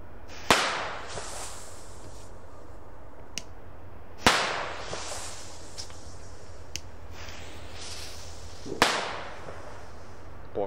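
Lesli China Böller B Schinken firecrackers burst outdoors on a street: three loud sharp bangs spaced a few seconds apart, each with a crackling echoing tail, plus a few smaller pops in between.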